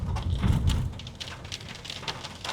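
Rain falls steadily in the Kodaikanal hills of Tamil Nadu, a soft, even patter of drops with a few slightly louder taps, quiet and continuous with no voices.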